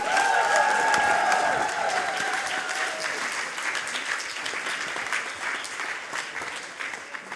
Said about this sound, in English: Big applause for Marwa Zainal Abdin.